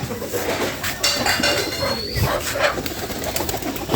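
Domestic pigeons kept alongside chickens coo close by, with light clinking of dishes or metal containers mixed in and no talk.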